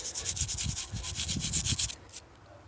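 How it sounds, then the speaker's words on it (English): Grime is scrubbed off a bicycle derailleur hanger in quick, rhythmic back-and-forth rubbing strokes, close and fairly loud for about two seconds before stopping. "Good scrubbing all the way across."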